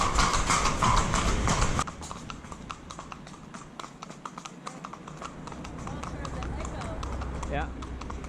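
Horse hooves clip-clop steadily on a busy, winding road in Ireland on the way toward Killarney National Park, a brisk regular rhythm heard close, louder at first under a voice, then continuing with traffic noise.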